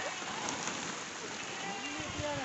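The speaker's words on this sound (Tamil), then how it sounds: "மழை வேற பயங்கரமா வந்துருச்சு." Heavy rain pouring down during a family Pongal festival gathering, a dense, even patter and splash close by, with faint voices underneath.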